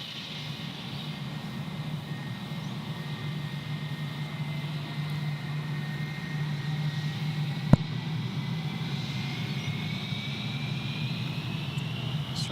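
A Jetstar airliner taking off at Gold Coast Airport in heavy rain, its engines a steady, distant broadband roar with a rising whine, and one sharp click partway through.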